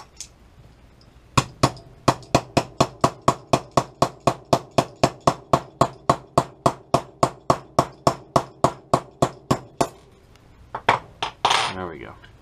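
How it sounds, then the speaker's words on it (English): Metal punch struck repeatedly with a hammer to drive a tight pin out of an STI 2011 pistol, about thirty sharp, evenly spaced clinking taps close up, followed by a brief shuffle and handling noise. "it is pretty tight in there, so I'm going to hammer that out with my punch"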